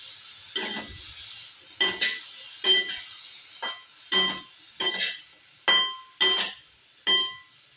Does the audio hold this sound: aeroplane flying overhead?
no